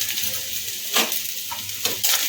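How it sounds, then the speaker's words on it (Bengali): Paneer fried rice being stirred in a hot pan, with a steady sizzle and a few sharp scraping clinks of the spatula against the metal, close and clear. "একটু নেড়ে চেড়ে নেব"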